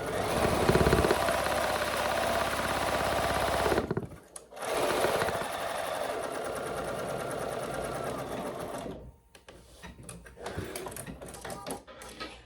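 A sewing machine runs steadily, top stitching fabric for a handmade holiday gift. It whirs loudly and continuously, stops briefly, starts again, then the motor drops to a lighter, uneven whir near the end.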